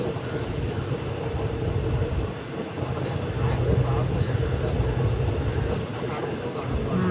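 The Amritha Express (Thiruvananthapuram–Rameswaram) runs along the line near Madurai, heard as a steady, loud rumble of the rolling train and rail noise that fills the whole stretch, with a voice speaking over it.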